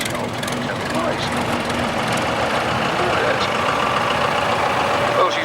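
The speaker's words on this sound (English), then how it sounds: "the two-stroke engine there." A 1960 Foden S21 tractor unit with a two-stroke engine runs at a parade, giving a steady, dense mechanical drone with broad noise throughout, while a commentator's voice carries over it.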